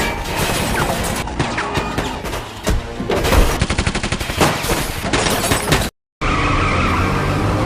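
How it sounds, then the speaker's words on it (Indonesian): A film gunfight between robbers and police, with dense bursts of gunfire mixed with loud action noise and squealing tires, continuous and loud before a brief cut to silence. "terjadi baku tembak menegangkan antara perampok dengan pasukan polisi yang ada di sana"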